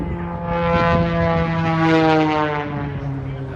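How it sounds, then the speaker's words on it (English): A real airplane flies over at the Oshkosh 2023 airshow with a steady, droning propeller-engine tone that holds for several seconds. It rises slightly and then eases off over open-air background noise, with no talk over it. "That's a real plane, not an RC."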